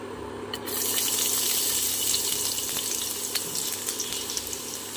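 Chopped garlic drops into hot oil in a wok and sets off a sudden hiss that settles into a steady, close sizzle lasting to the end.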